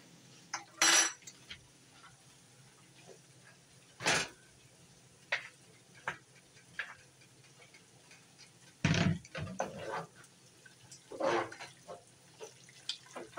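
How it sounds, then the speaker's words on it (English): Noodles being stirred into a thick chicken alfredo sauce in a pan, with scattered clinks and scrapes of a utensil against the pan and soft wet stirring sounds, close and intermittent. "We're going to add the noodles into the sauce."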